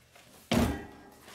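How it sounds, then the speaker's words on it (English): Car door on a VW Rabbit slamming shut with the engine off, a single solid thunk that decays quickly, moderately close against a quiet background. "Okay, now close the door."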